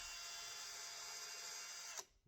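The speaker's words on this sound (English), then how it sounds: "We're going to grab our old friend here, our drill with the wire on it" A power drill fitted with a wire bit whirs steadily while boring through a hollow wall, a continuous high-pitched whine that cuts off sharply at the end.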